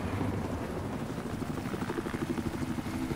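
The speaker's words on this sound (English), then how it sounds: "There's two choppers here." Two helicopters in Battlefield 4 on the Hainan Resort map, a loud, near rotor drone with a rhythmic chopping pulse that continues throughout.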